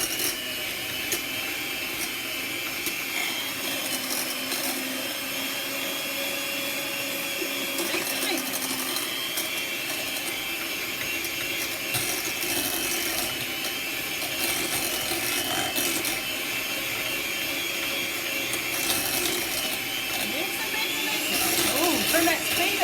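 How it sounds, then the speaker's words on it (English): Continuous whirring buzz of an electric hand mixer beating stick butter, steady and fairly loud from start to finish, with a voice talking over it. "we're going to turn on this hand mixer and mix them up. So look out for the noise"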